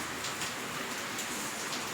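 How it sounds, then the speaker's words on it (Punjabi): Rain beginning to fall on a farm, a faint, even patter of drops spread across the whole moment, with no voices. "ਅੱਜ ਮੀਂਹ ਆ ਗਿਆ ਦੇਖੋ ਵੀ ਤੇ ਵਧੀਆ ਛਿੱਟਾ ਪੈਣ ਲੱਗ ਰਿਹਾ ਦੇਖੋ"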